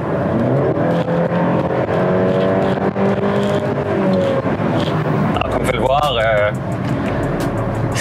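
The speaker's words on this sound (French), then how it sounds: "la sonorité du moteur lorsqu'on est en accélération franche n'est pas aussi agréable que celle évidemment d'un moteur 6 cylindres" A 2022 Mercedes-Benz C-Class engine pulls hard under full acceleration, a steady loud drone that rises in pitch with a gear change near the end, while someone talks over it throughout.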